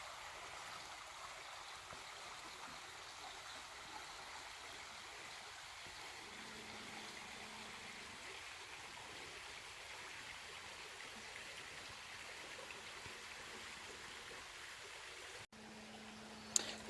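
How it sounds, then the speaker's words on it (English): Running water of a small stream at a mudlarking dig flows in a soft, steady wash, faint and even throughout, with a brief knock near the end. "I thought I'd just let you hear the sound of the running water"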